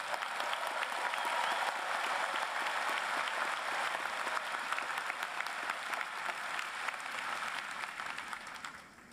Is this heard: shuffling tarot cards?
no